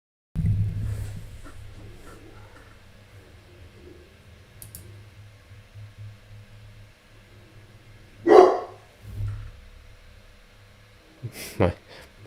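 Dogs inside a home barking at the trash collector, one loud bark and a few fainter yips spread apart over quiet room hum, with a click near the end.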